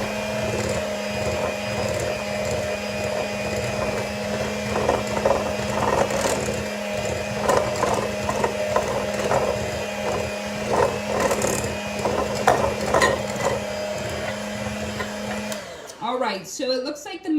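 An electric mixer blending buckeye candy dough, a steady whirring motor with a bumpy, uneven churn, stopping near the end as a person begins to talk.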